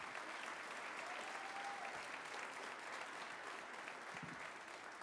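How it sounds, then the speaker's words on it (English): Applause from the audience at a middle school Christmas concert, a continuous, even roar of many hands clapping, heard at a distance and quite faint. "Let's give them another round of applause."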